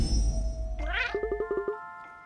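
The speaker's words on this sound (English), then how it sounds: "I love the cat sound when they talk." A single drawn-out cat meow from a fantasy video game character rises and falls, followed by a quick series of short chirping game blips, clear and up close over a soft music bed.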